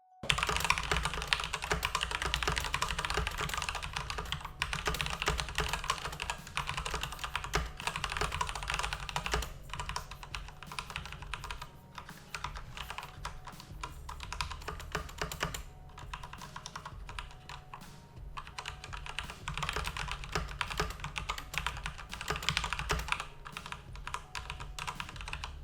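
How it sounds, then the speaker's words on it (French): Continuous typing on a Corsair K63 wireless keyboard with linear, non-clicky switches: dense, steady keystroke clatter running the whole length with no talking. "il s'agit d'interrupteurs linéaires et sans clic d'activation, ce qui permet d'avoir une frappe moins bruyante que sur des switches chez Realmix Blue par exemple"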